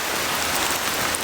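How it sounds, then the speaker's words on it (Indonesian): Steady, dense rain falls in an abandoned village at night, a continuous close hiss with no pauses and no voices. "Hujan, geng."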